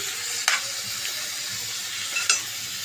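Kandanakaya curry with turmeric stirred in a pan over a low, steady sizzle, with two sharp scraping knocks of the spoon against the metal.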